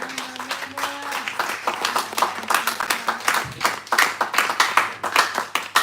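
Church congregation clapping and cheering for the Lord at a Pentecost worship service, a dense run of hand claps with voices mixed in, steady and fairly loud throughout.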